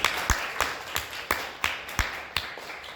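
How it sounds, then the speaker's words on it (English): A few sparse, evenly spaced claps at a college admissions meeting, sounding like a small, scattered audience rather than full applause, crisp and moderately close. "give her a round of applause, guys"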